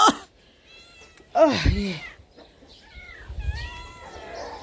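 A cat meows a couple of times, close by, with harmonic calls in between and a person murmuring briefly at the start.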